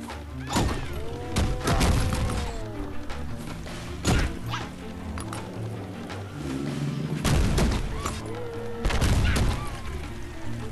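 Rapid bursts of gunfire from a donut boss wielding a gun in the mobile game Cookies Must Die, sharp repeated shots and thuds over a busy electronic game soundtrack.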